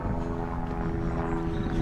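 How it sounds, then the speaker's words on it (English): A helicopter, probably an air ambulance, passes overhead near Newdale and Lawley in Telford, a steady loud rotor and engine drone filling the whole moment without a break. "there's a helicopter up there."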